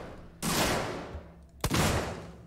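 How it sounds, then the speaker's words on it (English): Two loud, sharp gunshots roughly a second apart in Alien: Isolation, each with a long ringing decay, with no talk over them. "That's the first time I've shot a gun in this game."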